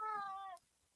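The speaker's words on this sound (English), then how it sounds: "Your cat has some ideas about it too." A cat gives a single clear, drawn-out meow lasting about half a second, close and alone, then it falls quiet.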